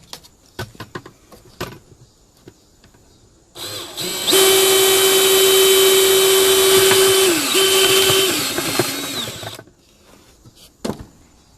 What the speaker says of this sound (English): We're going to take our unibit here, and we're going to drill up.